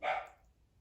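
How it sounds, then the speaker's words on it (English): A single dog bark rings out at moderate distance, sharp at onset and tailing off quickly into quiet background. "the dogs are barking"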